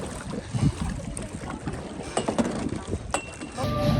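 A tour boat moving over a lake in Ninh Binh, Vietnam, with a steady engine rumble and wind buffeting, faint voices in the background throughout.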